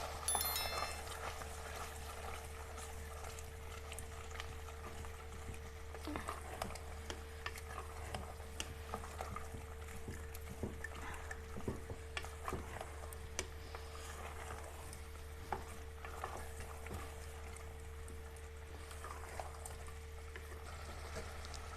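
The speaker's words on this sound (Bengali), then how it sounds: "এর মধ্যে দিয়ে দিলাম টমেটো কুচি আর 2 চামচ টক দই। এটাকে ভালো করে কষাতে হবে।" Chopped tomato and yogurt are sautéed with meat in an oily pan, giving a quiet, steady sizzle with intermittent stirring scrapes and taps against a constant low hum.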